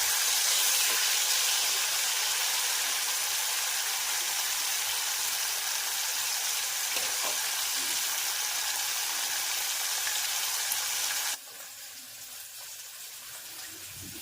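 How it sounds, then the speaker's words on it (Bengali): Amudi fish frying in mustard oil in a frying pan gives a steady, close, loud sizzling hiss that runs unbroken, then drops sharply quieter near the end. "একটি ফ্রাইং প্যানে সর্ষের তেল গরম করে একে একে মাছগুলিকে ছেড়ে দিয়ে প্রায় 5 থেকে 7 মিনিট এপিট ওপিট লাল লাল করে ভেজে নিলে"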